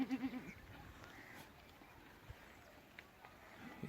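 Goats on a goat farm bleat briefly in a shed where 30 to 40 healthy male bucks of about 25 to 30 kg are kept. Short calls come at the start and end over quiet farm background.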